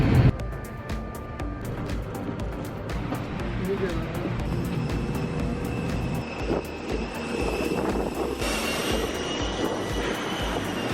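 Inside an airplane just after landing at an airport in Sri Lanka, a steady roar of jet engines and rushing air fills the cabin, with scattered clicks and rattles and a brief rise in noise near the end.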